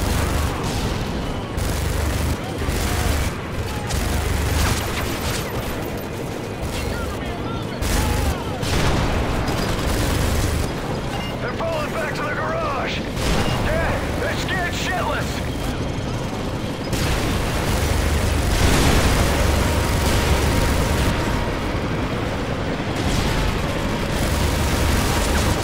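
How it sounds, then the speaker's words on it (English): Tank-mounted minigun firing and explosions in a Call of Duty: Modern Warfare 3 battle, loud continuous gunfire with heavy booms and bursts layered densely across the whole stretch. "a freaking tank with a minigun on top shooting at you and chasing after you"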